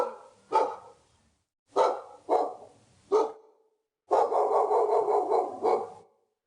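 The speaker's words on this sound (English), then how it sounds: "the only sound he could hear was a faraway barking dog" A dog barks several times in separate bursts, then a longer run of rapid barking, sounding somewhat distant with quiet gaps between.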